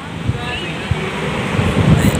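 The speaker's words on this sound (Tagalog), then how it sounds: "ang ganda ng daloy ng tubig" River water rushes along in the mountain country of Don Salvador Benedicto, a broad, steady roar mixed with buffeting wind while someone talks over it.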